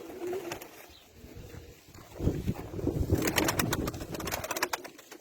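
A female Arab breed pigeon coos in low throaty bursts nearby, with rustling and fluttering noises rising partway through.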